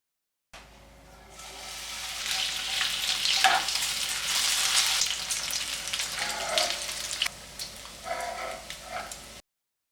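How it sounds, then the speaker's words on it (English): Steady sizzling and crackling of bacon frying in a pan, close and continuous, with a few faint clinks and shifts near the end. "First, we're going to fry some bacon."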